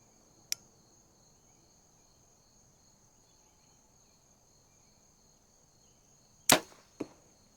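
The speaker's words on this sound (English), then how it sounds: "Next, we are going to shoot the vented tooth arrow." A vented tooth arrow is shot from a bow at a target during bow tuning for deer season: a faint early tick, then a sharp loud snap at about six and a half seconds followed by a second crack, with steady crickets chirping behind.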